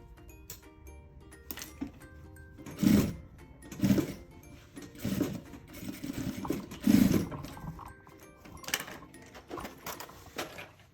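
A sewing machine stitches bias binding onto a maternity bag in short repeated bursts of rapid mechanical chatter, each run separated by brief pauses, close and fairly quiet, with no voices.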